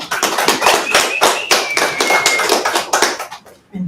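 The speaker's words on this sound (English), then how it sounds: "Just give a nice round of applause for Annaita." A small live-streamed ceremony audience gives Annaita a round of applause, a close, brisk patter of hand claps lasting a few seconds before fading out.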